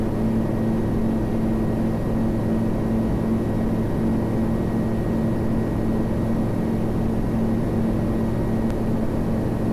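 A small seaplane engine at steady cruise RPM of about 5350 drones loud and constant inside the cabin, a continuous buzzing tone with no breaks.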